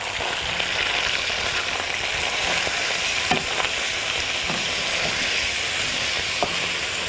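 Ground meat fries in a hot pan with a dense, steady sizzle and hiss, punctuated by a few sharp clicks and scrapes of stirring, close and continuous without speech.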